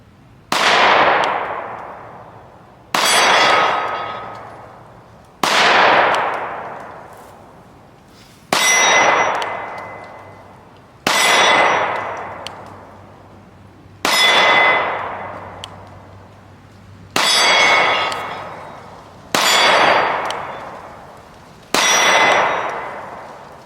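Nine sharp, loud pistol shots from a Glock 43x or Shadow Systems CR920 with a 12-round magazine, fired slowly at steady intervals of about two and a half seconds, each with a bright crack and a long ringing decay.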